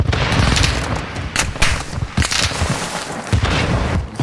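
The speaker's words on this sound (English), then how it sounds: "I hear gunshots." Repeated bursts of video game gunfire, a rapid scatter of sharp cracks and booms spread across the whole stretch, fairly loud with no talking over them.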